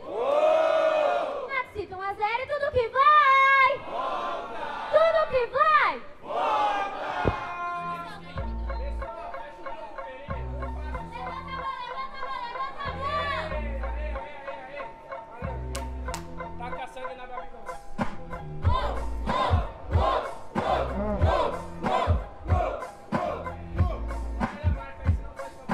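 A crowd at a Salvador versus Maxito rap battle in the Batalha da Leste champions' edition cheers and shouts loudly, with whoops and calls over a thumping beat, rising again toward the end.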